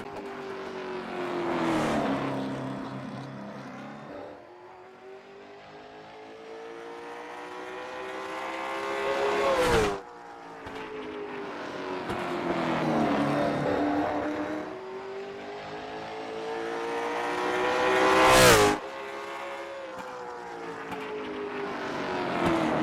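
Race car qualifying at Martinsville Speedway, its engine swelling and fading in repeated cycles as it laps the short oval, with two sharp loud peaks as it passes close by and quieter stretches down the far side, no voices.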